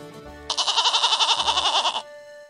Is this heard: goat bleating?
yes